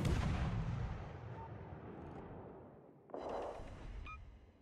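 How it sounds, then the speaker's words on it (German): Naval artillery from a warship in World of Warships Legends fires a heavy booming salvo that rolls away, then a second thudding blast follows with a short electronic game tone. "Schießen hier auf jeden Fall auf den Gegner."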